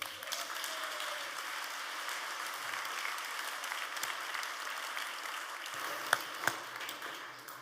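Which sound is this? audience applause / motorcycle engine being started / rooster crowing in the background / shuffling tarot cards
audience applause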